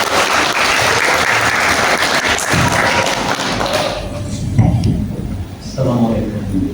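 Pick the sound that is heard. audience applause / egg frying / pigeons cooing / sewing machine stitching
audience applause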